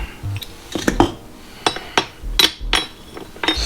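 Metallic clanks and clinks of a spring compressor and coil spring being worked off a BMW's suspension, several sharp close knocks spaced irregularly with no talk.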